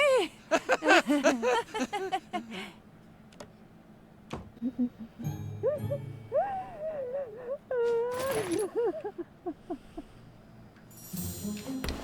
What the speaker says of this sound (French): Maman, ne pleure pas, mon cœur.